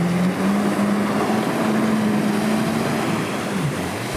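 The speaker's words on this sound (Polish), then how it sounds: "No to co Maciek, dopływamy do skutera, wchodzimy na sprzęt" A jet ski riding on open water, its engine droning steadily with a slowly shifting pitch over loud wind and water rush, close and continuous with no speech.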